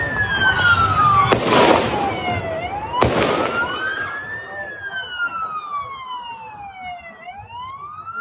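Emergency vehicle sirens wail through a beach-area scene during a mass shooting, with long sweeping tones rising and falling, joined by two sharp bangs early on amid background crowd noise.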